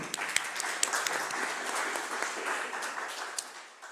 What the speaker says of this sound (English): May we please give a bit of round of applause.